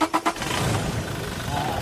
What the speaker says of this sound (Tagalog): Pa-switch off ko itong makina. Tapos pa-start ko ulit yan.